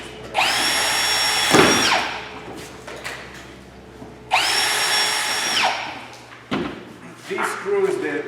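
A power drill drives heavy-thread construction screws into cement board, two loud whining runs each ending in a sharp seating clunk, followed by a shorter burst, with someone talking in between.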